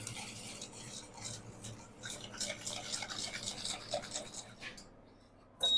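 Whisking custard sugar in a bowl, a close scraping and swishing that continues steadily, ending with a brief louder clatter.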